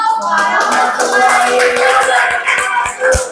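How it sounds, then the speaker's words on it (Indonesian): Classroom audience applauding after a group presentation, a dense, steady patter of many hands clapping close by, holding evenly for a few seconds before tapering slightly at the end. "Berikan aplaus dong."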